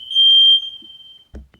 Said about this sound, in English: That's the smoke detector going off because it's so sensitive.